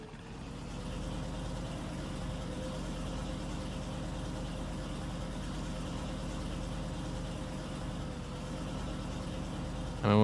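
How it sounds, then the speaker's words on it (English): An old Chevy engine with cracked headers, leaking valves and a ticking engine runs steadily in Farming Simulator 19, a continuous low rumbling idle with a rhythmic pulse that holds constant throughout. "Let's see if it runs long enough or not. I mean, it is a Chevy after all"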